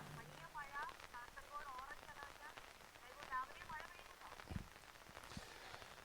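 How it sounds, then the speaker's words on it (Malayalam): Heavy rain falling across parts of Kasaragod district, a faint, steady wash of drops on surfaces that continues throughout, with brief tonal calls rising over it. "ശക്തമായ മഴയാണ് കാസർഗോഡ് ജില്ലയിൽ ഇപ്പോൾ വിവിധ മേഖലകളിൽ പെയ്തുകൊണ്ടിരിക്കുന്നത്"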